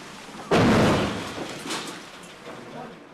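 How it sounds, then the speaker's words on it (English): Tank fire strikes a bunker on a Ukrainian frontline during a counterattack, landing as one loud, sudden thud-like impact that rings out and slowly fades into a rumbling tail. "Tank fire hammers the bunker."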